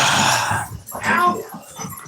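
Duchess the dog gives short growls and whimpers up close, in broken bursts mixed with someone talking.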